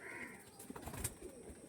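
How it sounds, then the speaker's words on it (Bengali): Quality racing pigeons coo faintly in short, soft throaty bursts, with some background noise and no voices. "সুন্দর কোয়ালিটির পায়রা দেখুন"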